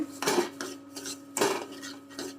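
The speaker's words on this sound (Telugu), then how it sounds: "పంచదార వేసుకుని బాగా కలుపుకోవాలి" A spoon scrapes rhythmically around a pan as sugar is stirred into thick semolina halwa, several close, gritty strokes repeating about every half second.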